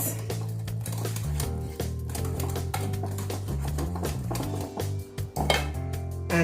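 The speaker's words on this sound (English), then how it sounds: "Add in a little bit of the flour, a little bit at a time. Give it a whisk." Whisk clinking and scraping steadily against a bowl while flour is mixed into banana bread batter, a close, busy rhythm of light metallic taps without any talking.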